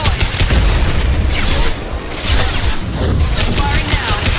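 Heavy gunfire and booms from the video game Mass Effect 2, a loud continuous barrage of blasts with a brief dip midway, dense and close throughout.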